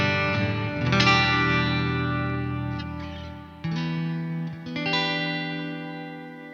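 An electric guitar runs through an MLC Sub Zero amp sim and a chain of pedals. It rings out sustained chords with chorus, echo and light distortion, re-struck several times and alone, with no talking.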